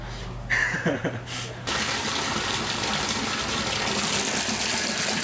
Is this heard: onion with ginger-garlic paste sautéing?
no